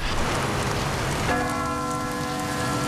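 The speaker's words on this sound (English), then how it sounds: "when the sounds of the church bells and the hymns faded" A single church bell strikes partway through and rings on with a sustained, resonant tone over a steady patter resembling rain.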